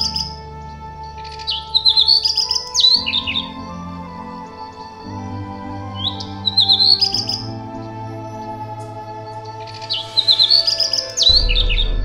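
A black redstart calls in three separate bursts of high, thin chirps, each a second or so long and spaced several seconds apart, over a low, steady background hum.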